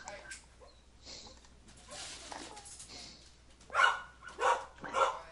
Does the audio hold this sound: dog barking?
yes